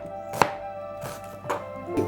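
A knife slices an onion into thin lengthwise strips on a board, giving three or four separate crisp cuts with short pauses between them, close and moderately loud over a low background hum.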